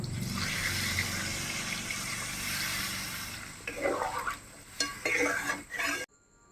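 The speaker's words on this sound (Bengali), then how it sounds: "এবার জল দিয়ে ভালো করে মাংসটা সিদ্ধ করে নেব।" Water is poured into a pot of browned duck curry meat, a steady splashing fill with stirring and clatter near the end, followed by a brief quiet.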